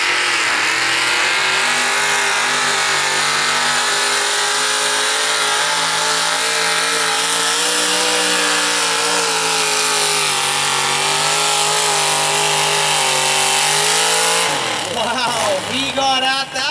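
A modified mini race car engine revs hard and loud out of a corner at a dirt-track racing night, a sustained roaring drone that rises and then wavers sharply near the end, with an announcer talking over it.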